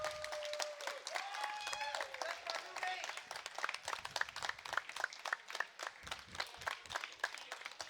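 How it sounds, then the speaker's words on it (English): Audience applause and cheers ring out for the winner at the EPIC43 StarCraft II grand finals on the main stage, clapping mixed with a host's voice over a fairly quiet hall. "A big round of applause and a huge cheer for Gerald"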